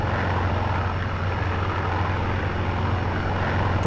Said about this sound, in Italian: Per fortuna riusciamo ancora a manovrare l'aeroplano.